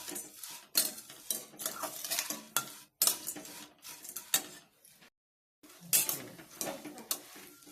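A spoon stirs and scrapes a chivda mix with coconut pieces around a pan, producing bursts of clattering, scraping strokes with a faint sizzle beneath and a brief pause partway through.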